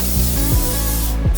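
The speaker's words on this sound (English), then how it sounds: "Now we're gonna start this with some cooking spray." Cooking spray hisses into a pan in a short continuous burst, close and steady, with a low kitchen hum underneath.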